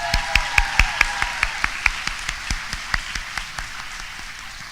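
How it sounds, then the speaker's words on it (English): Audience applause at a university nurse pinning ceremony: a crowd of clapping that sets off a run of sharp, evenly spaced claps in a steady rhythm, fading a little as it goes on and sounding fairly close. "Another round of applause for Jesse Elliott."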